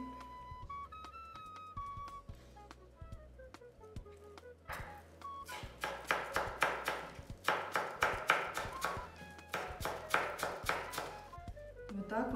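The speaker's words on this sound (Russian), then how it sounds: "как получится у нас мелко порезать лук" Onion being finely chopped with a knife on a board, a run of quick sharp taps that grows denser and louder in the second half, heard under background music.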